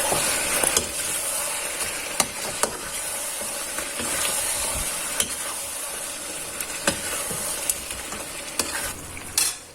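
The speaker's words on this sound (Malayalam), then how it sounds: "നമ്മളിത് സമയമെടുത്താട്ടോ വഴറ്റുന്നേ" Kashmiri chilli powder sautéing in a pan for Kerala-style chicken roast, a steady loud sizzle and hiss with repeated sharp clinks of a spoon stirring against the pan.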